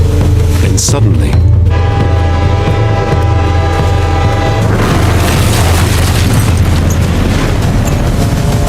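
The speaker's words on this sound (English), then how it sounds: "there was a massive train explosion in northern North Korea" A massive train explosion in northern North Korea: a low rumbling train sound gives way to a huge, loud broadband blast roar that fills the rest of the clip.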